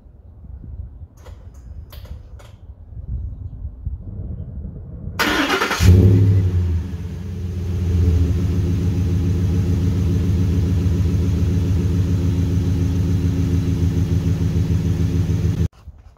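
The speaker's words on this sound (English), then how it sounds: "we'll start it up, see if it runs" A 2012 Ford F150 Raptor engine cranks and catches, revs up briefly, then settles into a steady, close idle that rumbles for about ten seconds before cutting off. A few faint clicks come before the start.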